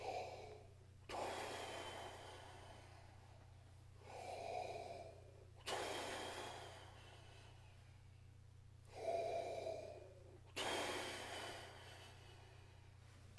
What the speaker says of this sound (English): So I just do some deep breathing exercises.